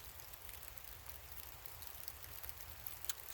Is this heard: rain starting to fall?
yes